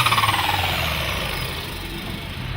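A pulling tractor's engine roars loudly and steadily at an exhibition tractor pull, a close, harsh mechanical drone with a rapid throbbing pulse at the start.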